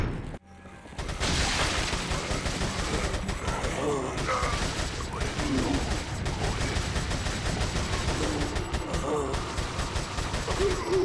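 Gunfire in Resident Evil 4 rattles in dense, repeated bursts with booms and mechanical clatter, close and loud, mixed with game sounds and a voice talking over it.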